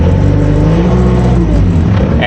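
A Bobcat A300 skid steer engine runs loud and close, holding a steady, throaty rev with a constant low rumble through the whole short stretch.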